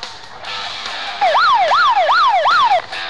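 Police siren in a police patrol simulator video game, a loud wailing tone sweeping up and down about four times in quick succession after a noisy backdrop, up close and alone with no talk.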